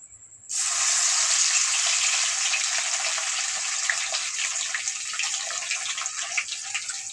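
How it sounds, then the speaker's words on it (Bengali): Three Kashmiri red chillies and crushed garlic hit hot oil for a jackfruit pickle, setting off a sudden loud, steady sizzling hiss that carries on unbroken and eases only slightly over several seconds. "এই যে আমার তেল গরম হয়ে গেছে, আমি দিয়ে দিয়েছি 3টা কাশ্মীরি রেড চিলি"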